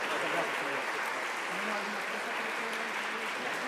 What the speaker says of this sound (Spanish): Les pido por favor un fuerte aplauso para todas y todos.